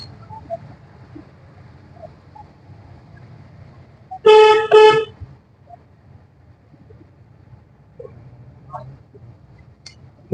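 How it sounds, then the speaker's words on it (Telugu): A car horn gives two short, loud honks in quick succession from inside a moving car, over a low, steady engine and road rumble with a few faint chirps. "హారన్ కొట్టాను"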